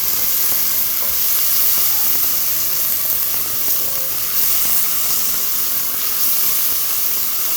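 Salted onions frying in a pan hiss and sizzle loudly and continuously, with small pops and the occasional scrape of stirring, heard up close without talk.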